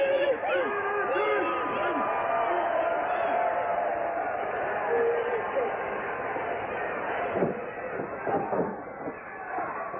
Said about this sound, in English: the crowd's mic'd to make it sound like 3 people were chanting DDP